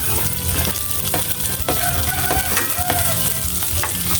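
Onion frying in a hot pan for a home-cooked vegetable and fish dish, a steady loud sizzle with scraping stirs throughout, no talking.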